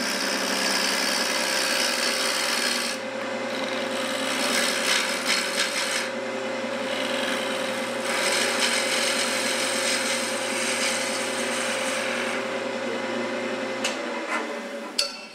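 A wood-turning tool cuts a non-round turning on a lathe, a steady close rasping scrape with a constant motor hum beneath, swelling in several bursts as the bevel rubs and the cut advances, with no talking.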